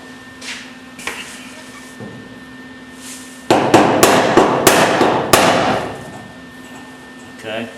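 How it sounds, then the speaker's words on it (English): A body hammer strikes a metal car panel to push it into place, a run of loud sharp metallic blows in quick succession after a few lighter taps, with a faint tonal hum underneath. "Probably going to need to get a body hammer or something to help push that in."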